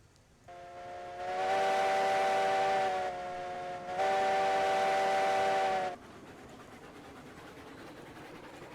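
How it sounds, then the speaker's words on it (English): A steam locomotive whistle in the video game Railroads Online gives two long, loud, steady blasts with a brief dip between them, then cuts off, leaving a low rumble behind. "Man, those whistles sound terrible."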